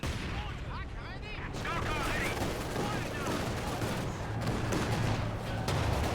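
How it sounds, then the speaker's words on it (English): Land Mattress rocket artillery barrage in Company of Heroes 2, a dense continuous rumble of launches and explosions amid battlefield gunfire, with whistling rocket sounds early and a commentator talking over it. "Land mattress artillery on the way."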